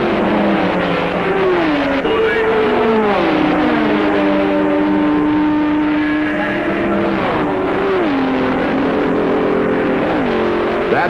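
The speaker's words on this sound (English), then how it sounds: "That's an Alpine cutting in front of the Ford GT." Ford GT and Ferrari endurance race cars, with an Alpine among them, roar past at Le Mans, loud high-revving engines rising and falling in pitch with repeated gear shifts and overlapping pass-bys throughout.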